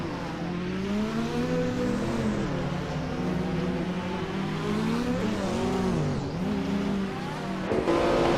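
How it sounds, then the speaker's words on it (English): Simulated 1979 Chevrolet Monza GT race car engine in a racing video game, a steady buzzing drone that rises and falls in pitch through gear changes, continuous and fairly loud throughout with no talk. "Maya is currently in 11th place driving a 1979 Chevrolet Decon Monza GT"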